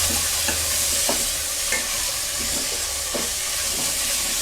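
Tomatoes and spice masala sizzle steadily in a pan for dhaba-style dal makhani, with a constant bright hiss and periodic soft knocks of a spoon stirring, close and continuous with no voices.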